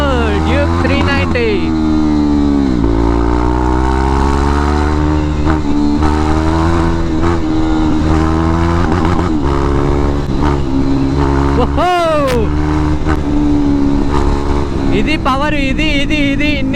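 A KTM Duke 390 fitted with an aftermarket exhaust revs loudly and close by, its strong engine tone climbing and falling through repeated throttle blips over several seconds.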